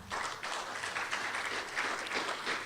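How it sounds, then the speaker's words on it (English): Audience applause at the closing of an Asia regional consultation on open educational resources: a dense, steady wash of many hands clapping together, sustained at an even level throughout. "I think you deserve a round of applause"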